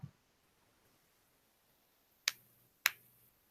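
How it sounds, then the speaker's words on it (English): Knuckles pop in two sharp, close cracks about half a second apart after a faint tap and near silence. "No, I popped my knuckles."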